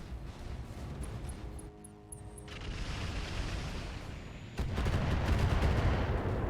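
Weapons fire crackles in the RogueTech battle game, a dense run of bursts and booms that turns heavier and louder toward the end, heard without talk.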